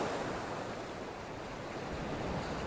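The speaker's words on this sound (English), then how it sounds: "that's how windy it is." Strong wind at a rocky seashore at Seaton Sluice, a continuous broad roar of gusting air mixed with surf, loud and unbroken with no voices.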